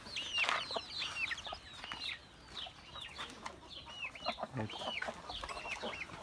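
Chickens fed watermelon and cucumber rinds, clucking and calling repeatedly in overlapping bursts, moderately close but fairly quiet overall.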